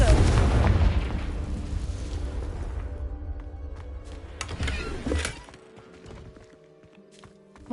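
A loud explosion from the Confringo spell in a Harry Potter video game, a heavy boom that rumbles and slowly fades. A second burst follows before it tails off into quieter game ambience, with voices heard in the clip.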